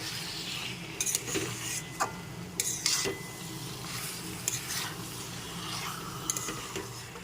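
Marinated chicken with spices is stirred and sautéed in a pan for posto chicken. A spatula scrapes and clinks against the pan again and again over a low, steady sizzle, heard up close and without talk.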